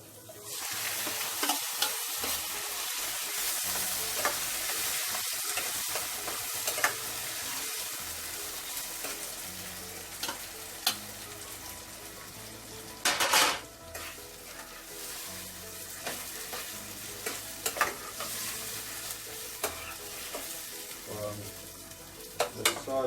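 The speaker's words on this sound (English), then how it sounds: "And I'm going to add the liver. liver in now. I'm just burning my garlic for about 1 minute." Chicken liver and garlic sauté in a hot pan for a Jamaican breakfast, giving a steady close sizzle broken by scraping stirs and a few sharp clacks of utensil on pan, with no talking.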